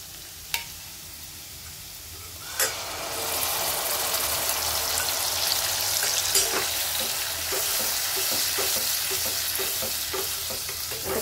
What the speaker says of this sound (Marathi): आता कमी गॅसवरच असं फेटत राहायचं चांगलं, म्हणजे घट्ट होतं।